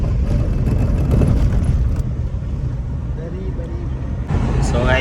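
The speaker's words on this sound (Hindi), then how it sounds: "ट्रैफिक देखो ना, कितनी ज़्यादा ट्रैफिक है।" Steady broadband roar of heavy highway traffic heard from inside a moving vehicle, continuous engine and road rumble with a brief birdlike chirp near the end; voices talk over the traffic.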